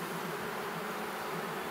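Dense, steady buzz of honey bees swarming close around an open hive while a beekeeper works a brood comb, loud and unbroken with no talk.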